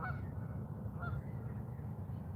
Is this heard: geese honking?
yes